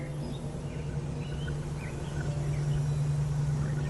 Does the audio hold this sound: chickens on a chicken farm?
yes